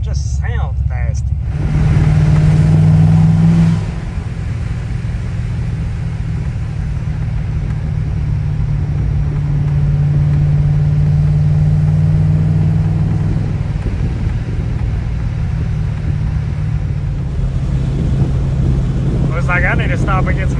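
A supercharged C6 Corvette's engine rumbles loudly on a night cruise, a deep steady drone that swells briefly early on, with wind noise and someone talking over it.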